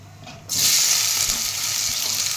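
Sliced onions hit a hot pan for a curry leaf chicken gravy, bursting into a loud, steady hiss of sizzling that starts abruptly after a brief quiet moment and continues close by.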